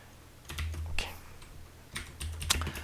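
Computer keyboard keys are pressed for a copy shortcut during a class lesson, a few quick close clicks and taps in a quiet room.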